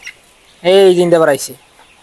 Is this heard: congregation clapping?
no